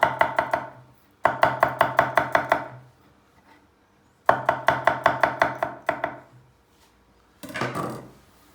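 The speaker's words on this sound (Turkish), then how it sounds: "Üzerine hemen bir sarımsak doğruyoruz." A knife chops garlic on a cutting board for a baked eggplant dish, in two long runs of quick, crisp, even strokes separated by a pause, then a short rough scrape at the end.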